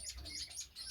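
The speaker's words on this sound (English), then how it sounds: "I just saw the Molotta Mannikin cockbird singing" Chestnut-breasted mannikins chirp faintly in soft, high twittering notes over a low background hum, a brief quiet burst of small-bird calls.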